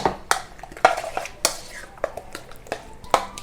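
Ground cumin being stirred into butter chicken (murgh makhani), with a utensil clinking and scraping against the pot in irregular, close taps and brief scrapes, while a soft voice murmurs faintly.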